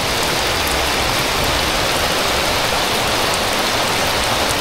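Heavy rain pouring in a loud, unbroken roar of hiss and patter, close and constant throughout with no voices.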